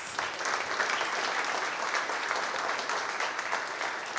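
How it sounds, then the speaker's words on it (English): An audience applauding speakers at a community event, dense continuous clapping from a room full of people, steady and moderately loud for the whole stretch. "let's give our speakers one more round of applause"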